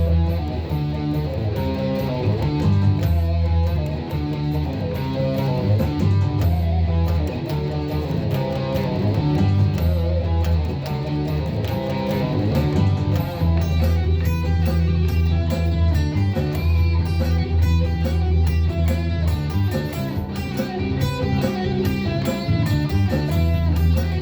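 An electric guitar plays a tune over a full backing track, with dense, continuous band music running throughout at an even, loud level.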